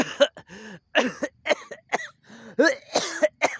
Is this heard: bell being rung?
no